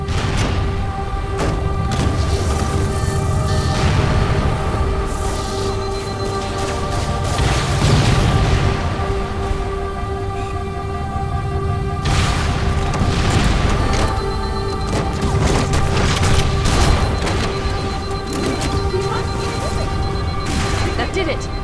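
A fusion reactor blowing apart in Halo: Combat Evolved brings loud, repeated booms and crashing blasts over a steady rumbling game soundscape, with bursts at irregular intervals throughout.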